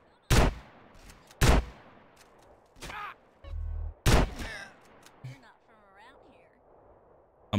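Shotgun fire in Grand Theft Auto Definitive Edition: three loud, sharp booming blasts spaced apart, with quieter game noises and a brief low rumble in between.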